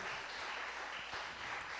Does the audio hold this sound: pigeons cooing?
no